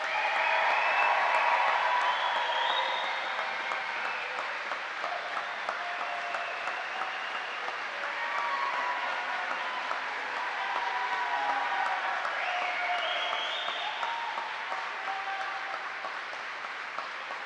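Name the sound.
audience applause at an Army flight school graduation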